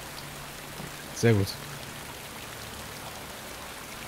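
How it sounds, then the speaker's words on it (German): Heavy rain in the video game Drakensang, a steady even hiss running through the whole stretch while someone speaks briefly in the middle. "Das war echt extrem laut, der Regen."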